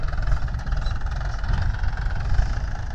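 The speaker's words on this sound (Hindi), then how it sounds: "महिंद्रा का 575 ऑल मॉडल ट्रैक्टर है भाइयों" A Mahindra 575 DI tractor with 13-28 tyres idles in a field, its diesel engine giving a steady, close, rumbling throb with a rapid even knock throughout and no talking.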